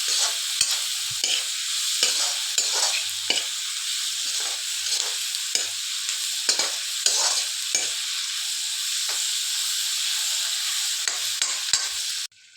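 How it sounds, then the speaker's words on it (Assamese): Onions fry in oil, a continuous loud sizzle punctuated by regular scraping stirs of a spatula across the pan. "এইখিনি অলপ সময় এতিয়া মই ভাজি ল'ম।"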